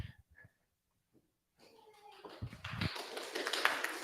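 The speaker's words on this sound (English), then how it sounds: "Thank you for that wonderful applause" A congregation at a Center for Spiritual Living service in Midtown Atlanta breaks into applause. It follows a few scattered taps, starts low, then swells into a dense, steady clapping that fills the room.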